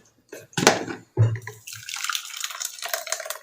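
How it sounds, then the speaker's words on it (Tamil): Blended watermelon juice is poured through a strainer into a cup, a few short splashes followed by a soft, steady trickle of liquid, close and fairly quiet. "இப்போ ஒரு கப்பில் இது ஒரு வடிகட்டி வச்சு நம்ம வடித்து எடுத்துக்கலாம்."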